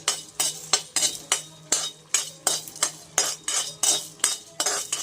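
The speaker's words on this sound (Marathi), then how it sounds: "यामध्येच मी वेलदोडे थोडे भाजून येणार आहे" Green cardamom pods dry-roast in a metal pan as a spoon stirs them in quick, regular strokes, each producing a close, bright scraping rattle, roughly three per second, with no talking.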